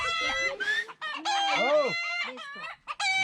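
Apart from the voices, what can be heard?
chicken crowing and clucking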